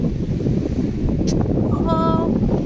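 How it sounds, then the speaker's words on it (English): Wind blowing by the water on a windy, sunny, hot day, a constant loud rushing buffet with a faint high tone near the end and no talking. "It is a windy, sunny, hot day."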